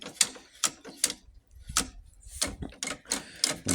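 Metal gear shift linkage levers on a Zubr walk-behind tractor converted to a mini tractor clack and click in a rapid irregular series of sharp, close mechanical knocks.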